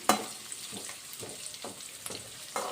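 Onions sizzling in hot oil for a tempering for rice, a steady close crackle of frying with soft repeated stirring scrapes roughly every half second.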